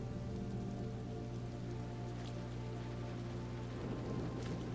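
Steady rain pours down continuously in the video game Road 96, a dense even hiss of drops with no voices.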